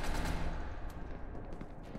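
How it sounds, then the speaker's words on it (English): Rapid gunfire in the video game SCP Secret Lab, a dense, continuous volley of overlapping shots at loud, fairly close range with no speech. "I think there are a lot of gunshots"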